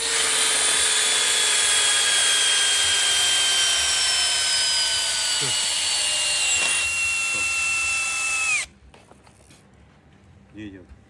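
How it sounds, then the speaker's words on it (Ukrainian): Zegor, DeWalt and Bosch impact drivers run together at first speed, driving screws into oak. Their loud, high whine with falling tones lasts about eight seconds, then cuts off abruptly, leaving faint room sound and a short squeak. "Три шуруповерти Zegor, DeWalt, Bosch. Перша швидкість, дуб."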